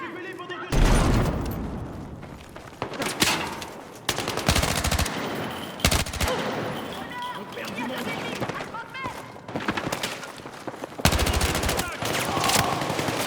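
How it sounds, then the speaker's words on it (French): Gunfire and explosions in Battlefield 6 game combat: loud bursts of automatic fire and heavy booms, including a grenade blast, recurring across the clip with shouted voices in between. "Grenade lancée!"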